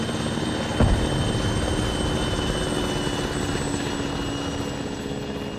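Helicopter in ARMA 3 flying steadily with a constant rotor and engine drone, loud and continuous from start to finish, with a brief bump early on and no talk.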